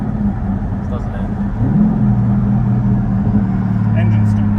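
A Holden VZ SS V8 idles cold at low RPM through a new exhaust, a deep, steady burble that swells slightly partway through, with people talking close by.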